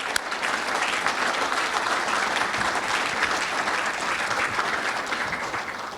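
A large audience at a Hall of Fame induction ceremony gives a sustained round of applause for the 2025 class, a dense, even wash of clapping lasting about six seconds with no voices over it.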